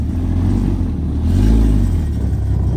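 A Honda Civic attempting a burnout, its engine revving steadily with a loud droning tone that swells in the middle and stays up throughout, close by, with no talk.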